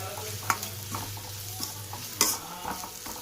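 Biryani masala mixture stirred in a hot pan, a sizzling fry under close, repeated scraping strokes of a spoon with a couple of sharper metallic clinks.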